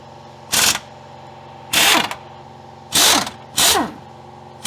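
Four loud bursts from a power tool as bolts come out of a rear differential mustache bar, each lasting about a quarter second and spaced roughly a second apart, heard close with a steady hum between them and no talking.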